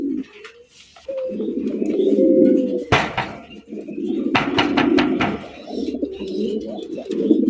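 Pigeons in a fancy breeder's loft coo repeatedly, with soft, low rolling calls running through most of the stretch, broken by a few sharp clattering knocks and taps nearby.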